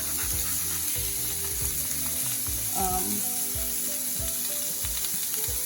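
Food cooking on a grill gives a steady, close sizzle that runs throughout, with a few soft clinks and stirring sounds on top.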